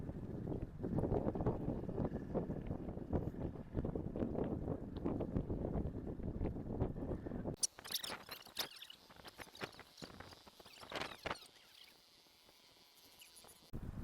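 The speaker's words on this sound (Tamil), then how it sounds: "காற்று ரொம்ப வேகமாக இருக்கு." Strong wind buffets the microphone in low, rumbling gusts during outdoor cooking, then drops to quieter clattering and rustling noises.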